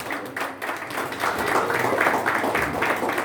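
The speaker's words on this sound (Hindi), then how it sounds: "जोरदार तालियां, जोरदार" A seminar audience in Odisha applauds women gathered on stage, in a dense, continuous wash of clapping hands that swells slightly and holds steady for a few seconds.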